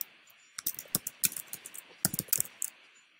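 A computer keyboard is typed on with a quick run of light close clicks in two short bursts, with a brief pause in between.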